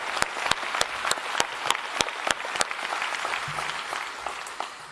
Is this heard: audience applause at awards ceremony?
yes